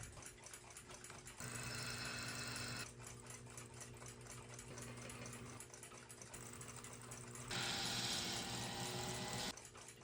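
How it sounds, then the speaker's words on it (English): A brass bushing is machine-cut for an 1891 Waterbury repeater alarm clock, giving a steady close mechanical whir that shifts in tone and loudness in stages, with no talking. "Now to cut a bushing."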